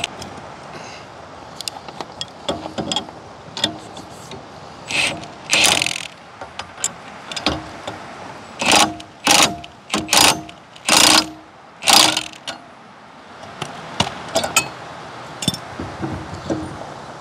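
Ratchet clicks snug bolts on a Gen-Y weight distribution hitch, with irregular runs of sharp metallic clicking close to the microphone, separated by short pauses and small clanks.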